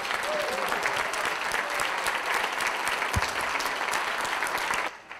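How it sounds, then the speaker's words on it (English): A banquet audience at a youth sports volunteer recognition event applauds past honorees. The dense, steady clapping lasts about five seconds and then cuts off abruptly. "please stand up so we can give you a round of applause"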